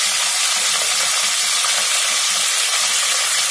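Curry leaves and asafoetida roast in a pan with a steady, bright sizzle. The hiss stays constant and close throughout, with no talk over it.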